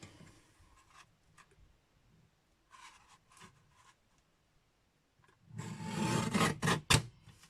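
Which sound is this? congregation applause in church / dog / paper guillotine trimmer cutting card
paper guillotine trimmer cutting card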